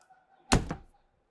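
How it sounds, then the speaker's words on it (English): Entry door of a 2027 Newmar Super Star motorhome shutting with a single solid thud and brief rattle, close and loud against an otherwise quiet background. "And close the door."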